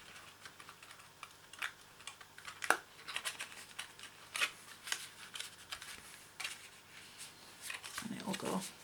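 Paper cardstock being folded by hand for a pop-up card, with faint, scattered crisp creasing and tapping sounds up close, and a voice speaking briefly near the end.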